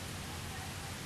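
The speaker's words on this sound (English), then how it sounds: "no sooner than I did that than the rain started coming" Steady outdoor rain hisses as a dense, even wash of noise that runs alone from start to finish, with no clear separate drops.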